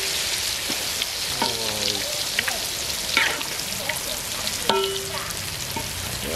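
Food fries in a pan over a charcoal brazier with a steady, dense sizzle and crackle that holds throughout, while faint voices break through now and then.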